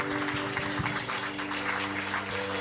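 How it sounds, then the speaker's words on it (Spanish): A church congregation applauds with steady, dense clapping from many hands, moderately loud and even throughout. "¿Le damos un aplauso a Dios?"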